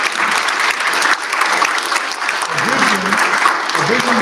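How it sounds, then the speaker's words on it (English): Sustained audience applause at an Urban League gathering, a dense steady wash of many hands clapping throughout, with a few voices cheering or calling out in the latter half. "So another round of applause."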